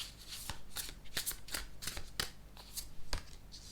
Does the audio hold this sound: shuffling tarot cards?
yes